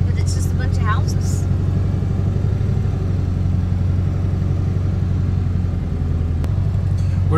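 A truck camper drives slowly through the residential streets of Chincoteague, its engine a steady, close, continuous rumble throughout, with a brief higher noise near the start.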